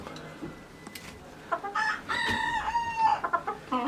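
Chickens cluck and squawk close by in a busy, uneven cluster while feeding, with one drawn-out rooster crow rising above the rest.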